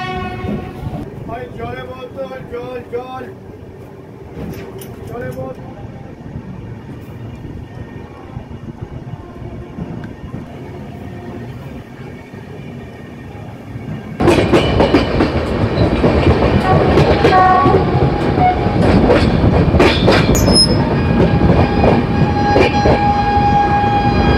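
The 12338 Shantiniketan Express pulls into platform 5 at Bardhaman station. A quiet platform rumble gives way halfway through to a loud, close rolling clatter of wheels and carriages, with voices in the background.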